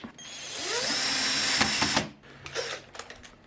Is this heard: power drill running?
yes